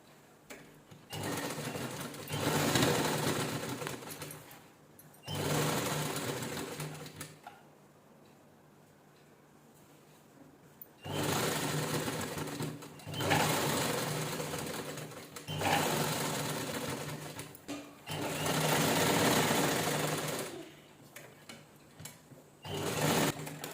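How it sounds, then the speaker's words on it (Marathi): A sewing machine stitches the lining of a jeans top in several rapid bursts of close, rattling whir separated by short pauses. "जसं त्या गळ्याला शिलाई करते तशी ह्याला आपण शिलाई करून घेऊया."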